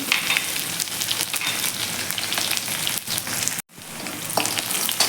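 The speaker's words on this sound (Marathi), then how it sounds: "थोडेसे जिरे घालायचे आहेत लसूण आहे बारीक ठेचलेला तो घालून द्यायचा आहे" Finely crushed garlic and cumin seeds fry in hot oil for a radish stir-fry, giving a dense, loud, continuous sizzle close by with a brief dropout partway through.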